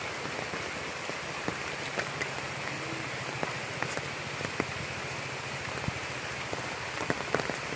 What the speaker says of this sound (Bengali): যে বৃষ্টি নামছে রে